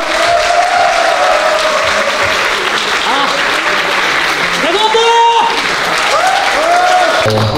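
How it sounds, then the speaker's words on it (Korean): Loud, sustained applause from a crowd at a grappling match fills the whole stretch, with cheering and voices rising through the clapping. "다시 한 번 박수 부탁드리겠습니다"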